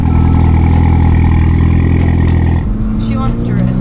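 A Mitsubishi Evo's engine runs loud and close with a strong low drone, dropping in pitch toward the end, while people talk nearby.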